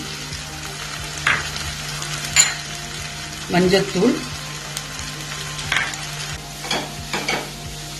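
Chana masala spices sizzle and fry in a pan with stirring scrapes and clinks, while a voice briefly speaks over the cooking.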